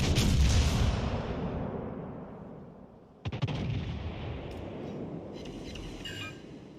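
Warship guns boom in World of Warships Legends: one heavy blast with a long fading rumble, then a second sharp report a few seconds later with a rolling tail and faint game effects.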